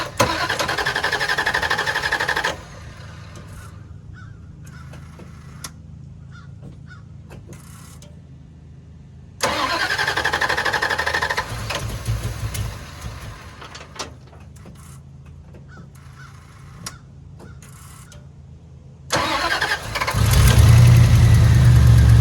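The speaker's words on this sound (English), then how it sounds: "It's only the second time I've tried to start this truck, so see if she goes." An old shop truck that has sat unused cranks in several long attempts separated by pauses, then catches and settles into a loud, rough idle at the end, recorded close by with no talk.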